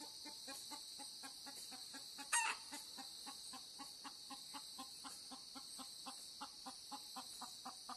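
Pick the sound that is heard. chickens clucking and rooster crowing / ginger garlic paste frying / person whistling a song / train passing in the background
chickens clucking and rooster crowing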